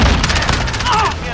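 A grenade bursts with a deep boom amid crackling gunfire in a Call of Duty Modern Warfare Domination match, loud and close, with a short rising whine trailing the blast.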